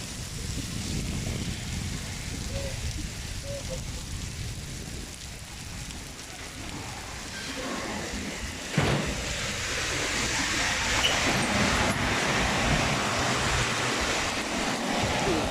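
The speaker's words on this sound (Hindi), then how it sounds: "देखिए इतना बारिश है, बहुत तेज बारिश है यार आज।" Heavy rain in Saudi Arabia pours down in a dense, constant hiss, with a brief sharp splash partway through; no one speaks.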